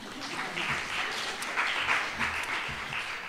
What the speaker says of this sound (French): Ça fait qu'il y a une bonne applaudissement pour ça.